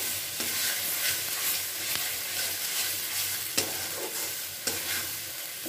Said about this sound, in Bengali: যাতে জলটা ভালোভাবে শুকিয়ে যায় ওই রকমভাবেই কিন্তু নাড়াচাড়া করে নিতে হবে।